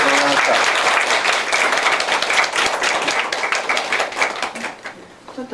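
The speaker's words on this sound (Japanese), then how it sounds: "皆さんで感謝の拍手をさせていただきます。" A lecture audience applauds in thanks after a talk by a journalist, a dense, sustained wash of many hands clapping close by that gradually thins and fades toward the end.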